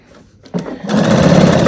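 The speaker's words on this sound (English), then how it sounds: "And I'm just going to do my top stitch all the way down" After a quiet moment and a soft click, a sewing machine starts up close and runs steadily, rattling and whirring as it top stitches along the edge of a quilted denim placemat.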